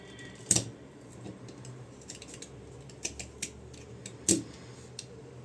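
Tape is cut on a transformer salvaged from a welding machine: two sharp scissor snips stand out, with small faint clicks and taps of handling in between, in a quiet room.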